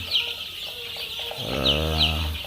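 Village chickens from a flock of 800 raised for farming cluck close by in a quick series of short calls, joined partway through by a louder, drawn-out squawk, with no one speaking.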